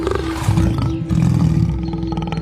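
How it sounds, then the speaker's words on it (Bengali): Tigers in the Sundarbans roar in deep, heavy bursts, loud and close, with two main calls over a steady tonal drone. No one speaks. "বাঘগুলো পালাতে না পেরে গর্জন করতে থাকে"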